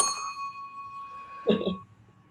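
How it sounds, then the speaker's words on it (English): A single bell strikes once and rings out with a clear, slowly fading tone, followed by a brief soft rustle. "I hope you can hear my bell"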